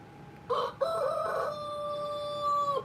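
A rooster crows once, a clear drawn-out call with a sharp start and a long sustained tail, fairly close and moderately loud over faint background noise, with no talking.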